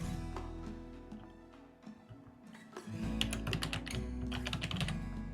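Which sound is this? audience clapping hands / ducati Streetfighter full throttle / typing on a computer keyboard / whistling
typing on a computer keyboard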